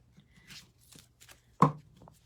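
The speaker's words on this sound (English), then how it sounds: "But I think I'm going to shuffle one more time." Oracle cards being shuffled by hand during a card reading, heard as soft papery riffling with one sharper close burst of cards snapping together near the end, in an otherwise quiet room.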